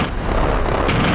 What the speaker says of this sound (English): Lots of bullets.